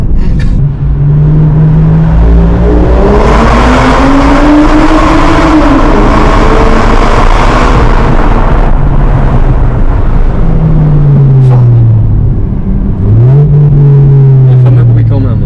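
A Toyota Mark II Blit with a 1JZ engine accelerates hard, its loud engine note climbing steadily in pitch, easing off, then rising again in two more pulls, with people talking over it from inside the car.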